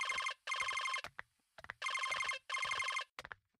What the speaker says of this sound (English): He calls Floyd and places it on speaker.